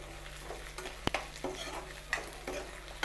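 A spoon stirs eggplant and spices in a sizzling pan, with repeated scraping strokes and a sharp metallic tap, close over a steady frying hiss.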